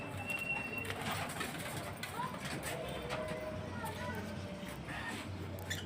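Pigeons coo softly and repeatedly among outdoor background noise in Camarines Sur, Philippines, with people talking nearby.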